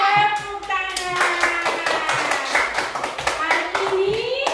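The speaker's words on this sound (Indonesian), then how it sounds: "Tepuk tangan." Children clapping hands in an Indonesian classroom, a rhythmic run of claps with a sung or chanted children's voice over it, fairly close and lively.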